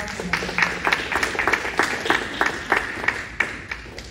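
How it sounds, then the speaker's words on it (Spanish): Church congregation applauding during a bilingual Spanish-English sermon, a scattered, moderately loud run of individual claps heard without talk. "quiero que le des un aplauso hoy."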